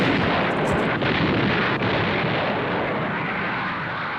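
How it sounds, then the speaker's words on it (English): A massive artillery barrage of 900 guns at El Alamein, heard as a continuous dense roar of overlapping distant gunfire and explosions, loud and unbroken throughout with no voices. "Montgomery's assault at El Alamein began with a barrage of 900 guns."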